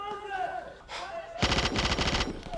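Gunfire from the film 28 Days Later, a burst of rapid repeated shots following a muffled stretch, loud and dense, with faint voices beneath.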